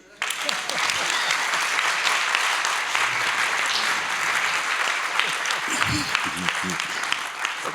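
Full audience applause during a plenary session of a policy conference, a steady dense wash of clapping throughout, with a few louder claps and a brief voice near the end.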